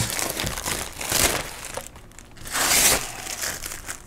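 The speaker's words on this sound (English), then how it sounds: "So we can go ahead and get all of this plastic off, or try to at least." Protective plastic film being peeled and crinkled off a Fluance Fi30 Bluetooth wood speaker, a close, continuous rustling with louder tearing bursts, alone without talk.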